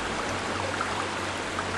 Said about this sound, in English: you can hear the sound of the waterfall